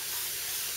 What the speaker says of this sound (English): you just pump this just like a sprayer